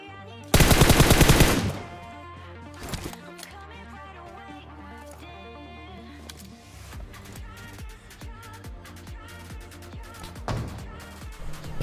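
PUBG Mobile gunfire from M4 and AWM rifles, opening with a loud, dense burst of automatic fire followed by scattered single shots and game sounds, with another short burst near the end and no voice.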